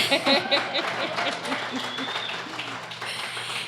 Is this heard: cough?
no